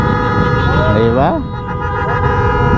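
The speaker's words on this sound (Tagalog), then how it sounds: "legendary busina." Vehicle horn at a motorsport endurance event, one rising tooting blast heard briefly under loud ambient noise, with a voice speaking over it.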